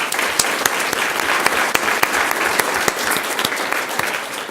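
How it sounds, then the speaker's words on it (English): A crowd at a school governing board meeting clapping steadily, dense applause with sharp individual claps standing out, fairly close and sustained throughout. "If you can stand so we can give you a round of applause."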